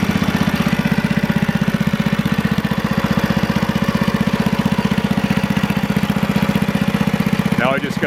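A 70- to 80-year-old Planet Jr. HT garden tractor engine, running without a muffler, idles just after starting with a loud, fast, steady putter close by that holds even throughout.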